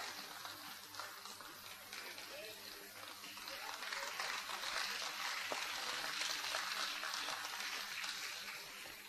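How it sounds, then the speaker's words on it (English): An audience at the BFSI CSR Awards 2014 ceremony applauds an honoree. The clapping is faint and distant, a steady hiss-like wash that swells about halfway through and then holds. "Let's have a huge round of applause, ladies and gentlemen"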